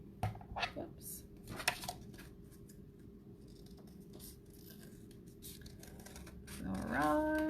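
Scissors snipping through paper to cut out circles for children's button art, a few crisp close cuts early on, then quieter handling and rustling with a brief tonal sound near the end.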